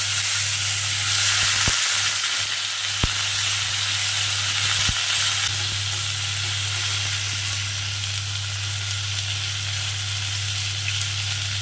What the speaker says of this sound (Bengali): এবারে আমি প্রথমে ফুলকপিগুলো এর মধ্যে দিয়ে দেবো।